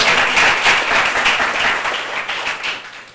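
A church congregation applauds during a Sunday service. The clapping is dense and sustained, loud and full as it fills the room for several seconds, then fades slightly toward the end.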